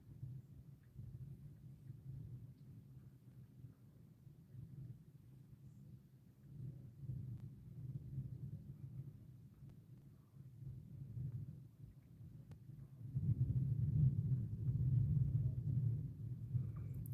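Low thunder rumbles faintly and continuously during a lightning storm, swelling louder toward the end, with no voices.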